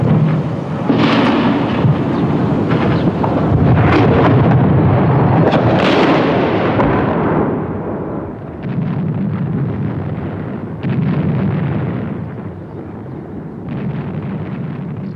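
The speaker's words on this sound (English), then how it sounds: "A real bombing campaign, not a pinprick" Heavy wartime bombing and artillery fire during the Yugoslav wars, loud rolling booms and rumbling blasts that overlap continuously, with a few sharper cracks, no talking.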